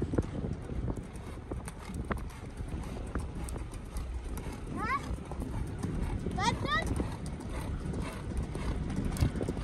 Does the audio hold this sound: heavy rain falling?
no